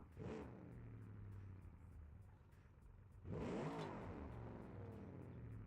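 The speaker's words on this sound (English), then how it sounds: "That is a automation engine sound" A light, custom-built race car in BeamNG.Drive with an Automation-made engine revs, settling into a steady drone before climbing sharply in a second loud surge; no voices.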